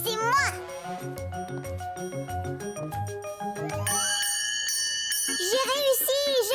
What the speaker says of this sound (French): C'est moi qui vais faire sonner la cloche.